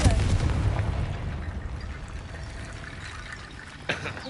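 A Confringo fire blast spell cast in Hogwarts Legacy bursts out loud and roaring, then fades into a long hissing, crackling tail, with a short thump near the end.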